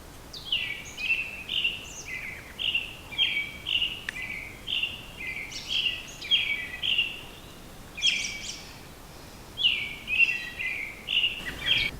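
Morning birdsong at a campsite: several birds repeat bright chirping phrases in steady bursts, fairly close and clear, over a quiet background with no talking.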